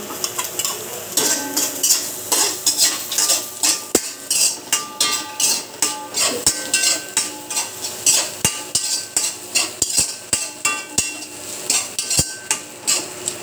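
Garlic fries in a pan for tuna-style adobo in coconut milk while a utensil stirs and scrapes, giving rhythmic clinks and knocks against the metal over a light sizzle, close and fairly loud.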